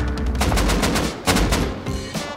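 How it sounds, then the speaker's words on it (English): Gunfire in the survival game Rust, a loud burst of rapid shots nearby followed by a few more cracks, with no talking. "Not long after, we heard some shots nearby"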